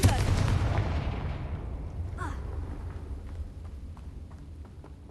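Confringo fire spell blasts in the Hogwarts Legacy video game, a loud burst at the start that decays into a low rumbling tail, with a brief whooshing streak midway and faint scattered ticks after.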